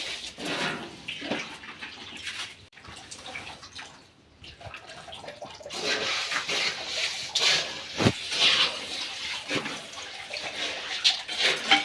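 Water runs and splashes steadily, growing louder and brighter in the second half, with occasional clunks nearby.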